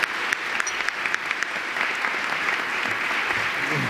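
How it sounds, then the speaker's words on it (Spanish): Conference attendees at a museum and heritage education congress clap for the presenters: a full, close round of applause with a few sharp individual claps near the start, sustained evenly to the end. "les pido un aplauso para todos ellos, por favor"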